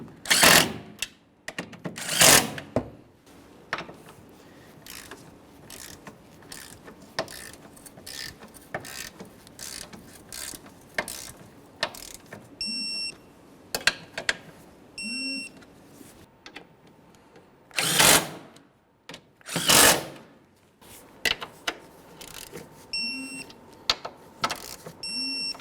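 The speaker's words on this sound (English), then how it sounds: "go ahead and torque them to 26 foot-pounds" A ratchet tightening 13mm strut tower bolts on a 2012-2018 Nissan Altima 2.5L, heard as sparse, close bursts of sharp clicking separated by quiet pauses.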